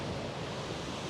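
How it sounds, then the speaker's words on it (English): Ocean surf rolling onto the beach at San Clemente, a steady broadband wash of breaking waves with no pauses, fairly loud and close, with no voices over it. "why am I wandering along the beach here in San Clemente talking to you today"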